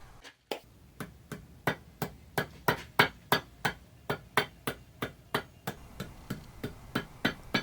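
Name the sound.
hammer tapping on surface plate, hollow sounds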